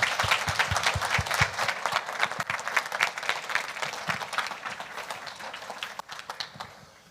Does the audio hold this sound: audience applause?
yes